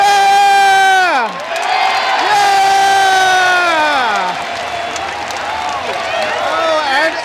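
Crowd cheering at a baseball stadium in Japan after the closer finishes the game: a loud roar of voices and whoops rises and swells, with a shouting voice close by.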